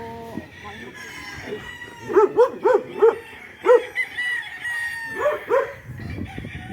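Several roosters crow repeatedly at moderate distance on a game farm in Urdaneta, Pangasinan, their calls overlapping in a busy yard, with some barking and clucking mixed in.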